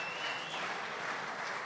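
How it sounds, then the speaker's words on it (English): A live podcast audience of a few hundred people claps in a dense, steady wash of applause that holds at an even level throughout. "Not everyone was clapping then."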